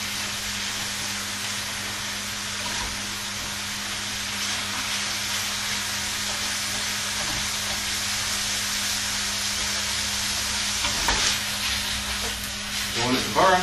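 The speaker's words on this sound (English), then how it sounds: "Now, I'm going to quickly flash fry the liver." Liver flash-fries in a hot pan for a stew, a loud, steady, close sizzle and hiss that holds throughout with slight crackles toward the end.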